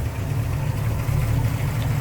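Smooth, steady low rumble of a 1967 Oldsmobile Toronado V8 idling close by, even and continuous with no speech.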